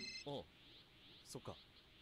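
A telephone rings briefly in an anime fight scene from One Punch Man, a short bright electronic trill at the start, followed by voices talking.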